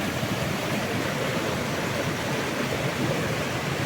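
A waterfall in Annonay, France, pours with a strong flow, giving a dense, steady rushing roar that stays even and close throughout, with no talking.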